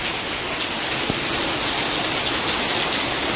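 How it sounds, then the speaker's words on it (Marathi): Dense, steady downpour hisses loudly and evenly throughout, a constant wash of heavy rain with no voices. "मंडळी बघा किती पाऊस वाढलाय, एकदम असं पूर्ण वारं हे झाले."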